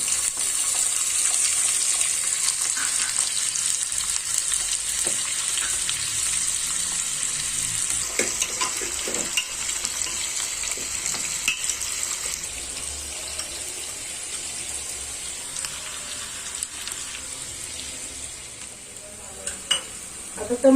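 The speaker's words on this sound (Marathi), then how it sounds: "आता तेल तापले, बटाटा फ्राय करायचे." Potatoes fry in hot oil, a soft steady sizzle with light crackle and occasional stirring clatter, moderately quiet and continuous throughout, no voices.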